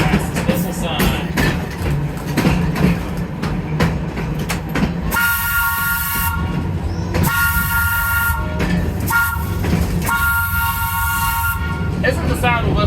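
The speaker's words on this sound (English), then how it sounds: "You'll be able to hear the whistle of our car number 64" A museum train's whistle blows in long loud blasts at a whistle sign over the steady rumble and clatter of the moving train, with the wheels clacking between the blasts.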